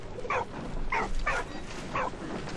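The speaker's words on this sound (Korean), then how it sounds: "강아지가 있습니다" A dog in the video game Valiant Hearts lets out four short, faint yips or barks, evenly spaced over a low background hum.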